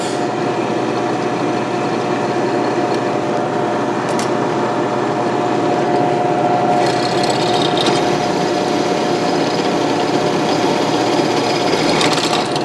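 A drill running at about 963 RPM taps threads into metal for a three-point landscape rake stand, giving a steady, continuous motor whine with a grinding undertone that carries on unbroken throughout.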